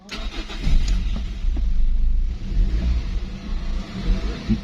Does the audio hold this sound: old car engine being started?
yes